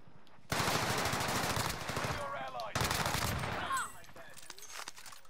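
Automatic gunfire in Warzone Rebirth, two loud sustained bursts of rapid shots separated by a short pause, with quieter trailing sounds at the end.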